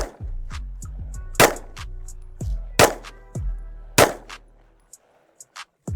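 Rapid, loud gunshots from a Zulisy Oak Plus Pro firearm during a zero-retention test: four sharp cracks with mechanical clatter and ringing between them, fading out as the gun malfunctions and the firing stops.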